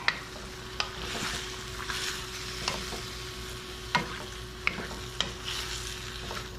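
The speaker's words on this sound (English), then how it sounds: "Okay, let's mix it." Pork with cooking wine is stirred and mixed in a hot pan, steady sizzling under repeated sharp utensil scrapes and taps spaced every second or so, close and moderately loud, with no voices.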